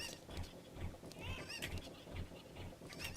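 Chickens in a video game give off repeated squawking, honking calls over a busy, cluttered game soundscape, with regular low thumps in the background.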